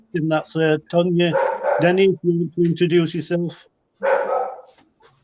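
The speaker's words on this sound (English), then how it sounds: "I don't know if you guys can hear the dog barking in the background," A dog barks repeatedly in quick, loud, regular bursts close by, with short yips among them, while a person speaks.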